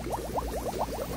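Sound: vinegar mixture bubbling in egg coloring experiment

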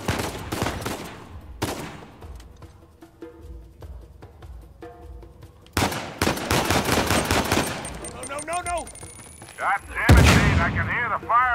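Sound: pistol gunfire in video game Uncharted 4

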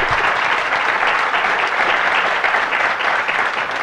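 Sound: applause

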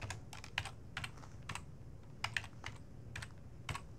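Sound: typing on a computer keyboard

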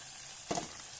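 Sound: onions frying in pan for chana dal curry

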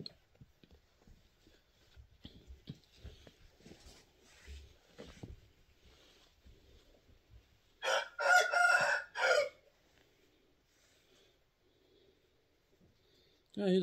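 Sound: rooster crowing

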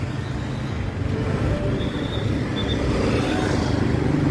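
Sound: busy car traffic on a street

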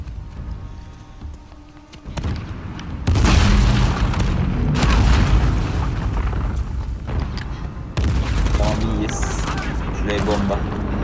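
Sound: explosion from a bomb in the Uncharted video game

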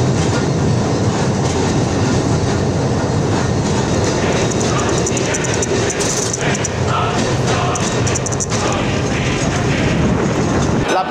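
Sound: electric tram running on rails in Iași

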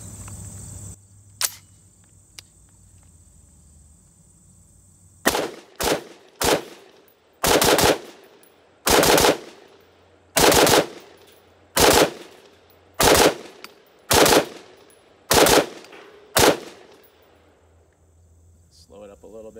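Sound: SIG rifle rapid firing Winchester 5.56 55 grain FMJ rounds

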